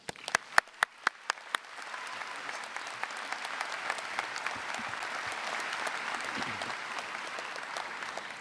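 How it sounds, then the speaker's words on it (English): A large commencement crowd at the UCSD graduation ceremony breaks into applause, opening with a few sharp individual claps before swelling into steady, dense clapping that holds for several seconds. "Please give a huge round of applause for Professor Jay Cummings"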